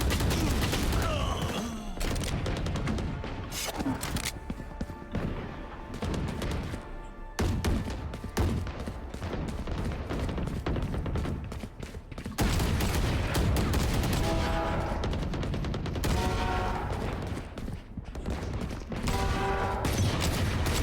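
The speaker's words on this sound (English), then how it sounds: "I like to use the sheriff to start, just to get my discipline going with a one shot." Sheriff pistol shots fire in a Valorant deathmatch, with dense gunfire from the match packed throughout, loud and near, sharp repeated cracks over game music and effects.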